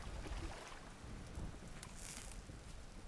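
Rain falls steadily in the survival video game Vintage Story, with low thunder rumbling underneath, a soft, continuous wash with no talking.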